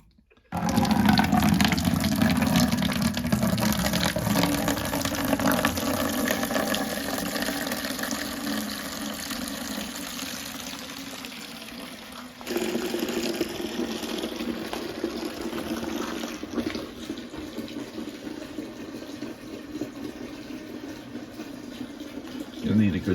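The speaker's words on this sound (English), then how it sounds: "start the water draining out" Water drains steadily out of a beeswax melting container, a continuous gurgling rush that runs close and loud, then thins and shifts in tone about halfway through.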